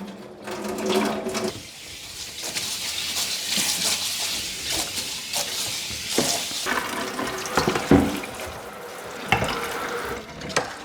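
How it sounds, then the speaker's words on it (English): Hot water runs from a kitchen tap into a sink during home beer brewing, a steady splashing rush that keeps going, with a few clinks and knocks of equipment close by. "I'll just let some hot water run through the tap"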